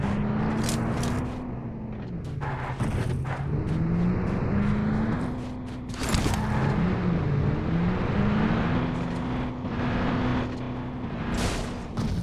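Pickup truck engine in a video game on the Miramar desert map, a steady droning motor that rises and falls in pitch as it accelerates and shifts, loud and close, with occasional thumps and no talk.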